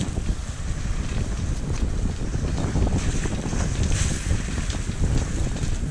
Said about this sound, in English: Every once in a while the wind kind of poofs out and then it picks up a little bit again.